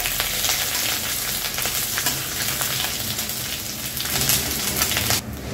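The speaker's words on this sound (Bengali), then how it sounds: "এগুলোকে আমি ভালো করে ভেজে নেব।" Torn bay leaf, Bengali five-spice and chopped ginger fry in hot oil in a pan, giving a dense, steady crackling sizzle with occasional stirring scrapes, close and loud, cutting off abruptly near the end.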